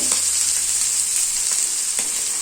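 Fish shallow-frying in plenty of oil on a flat tawa over medium flame gives a loud, steady hiss and sizzle with faint crackles throughout, and no voices.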